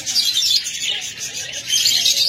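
Pet budgerigars or cockatiels in a bird market chirp and tweet continuously at close range, a dense overlapping chatter of bright calls.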